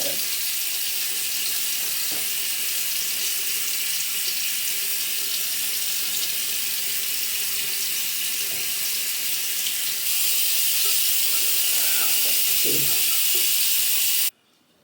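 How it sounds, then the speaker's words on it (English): Tap water runs steadily into a bathroom sink during morning face washing, a close, constant hiss with faint splashes and handling clunks, cutting off abruptly at the end. "Let's wash our face first."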